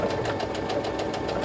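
Sewing machine running after the start-stop button is pressed, stitching fabric with a rapid, even mechanical chatter that holds steady throughout.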